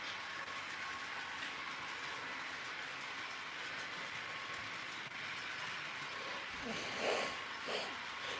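An HO scale model train runs steadily along its track, a continuous low rumble and rolling clatter with a couple of brighter clicks near the end.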